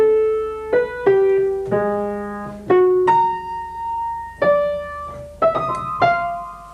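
A waltz melody played by the right hand on piano over broken harmonic fragments, a dozen or so clear notes in a lilting, uneven rhythm, close and moderately loud with no voices.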